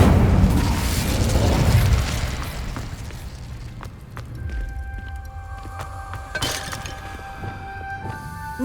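The Incendio fire spell in Hogwarts Legacy erupts as a loud roaring whoosh of flame for about two seconds, then fades into quieter crackles and magical chimes.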